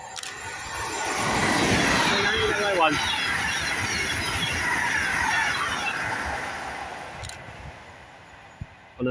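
A Class 390 electric train passing at speed on a West Coast main line service, a rising rush and rumble of wheels that swells and then fades, with someone talking over it.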